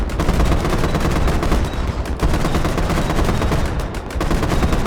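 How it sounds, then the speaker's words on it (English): The 30mm cannon of a BMP in a military video game fires as continuous rapid, heavy autocannon shots. The loud, dense pounding rounds run almost without pause, with only a brief dip partway through. "The 30mm cannon is such a huge asset"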